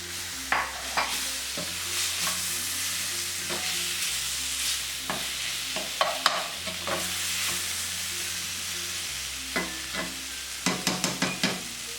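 Chopped tomatoes stirred into frying lobster masala in a pan, a continuous sizzle under intermittent spoon scrapes and clinks against the pan, with a quick run of taps near the end.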